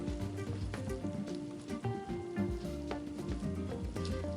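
Epoxy resin stirred and scraped around the sides and bottom of a mixing container, giving a steady wet scraping and swishing texture with faint clicks, close and continuous, no talking.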